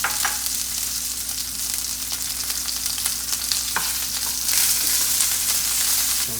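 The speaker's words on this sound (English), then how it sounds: "add the fish cakes into the frying pan. And we're going to brown those up a little bit" Fish cakes sizzle and crackle steadily as they brown in a hot frying pan, with occasional scraping and stirring.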